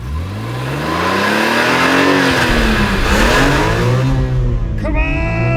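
A BMW E46 M3 accelerates hard nearby, its loud engine note climbing steadily through the revs before a sharp gear change near the end, the pitch dropping and rising again.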